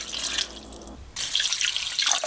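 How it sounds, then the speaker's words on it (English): Tap water pours into a slow cooker over leftover chicken bits for stock, a steady loud splashing rush that breaks off briefly and then resumes. "Then we start covering it up with water."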